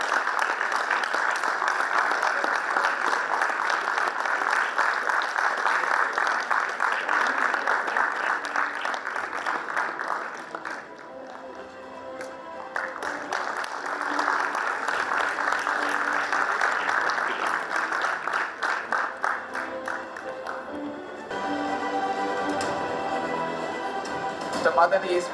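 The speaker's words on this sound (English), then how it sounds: "Let's give him a round of applause, please." Sustained audience applause for a medal recipient at a memorial lecture ceremony, steady crowd clapping that runs for about ten seconds, dips, resumes, then thins into a few scattered claps mixed with other noise.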